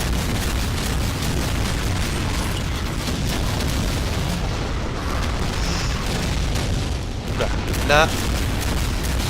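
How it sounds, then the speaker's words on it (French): Rocket launcher explosions in the Brutal Doom video game, a dense wall of booming blasts and rumbling noise that runs throughout, with a short word spoken near the end. "Qu'est-ce qu'on avait dit? Le lance-roquette"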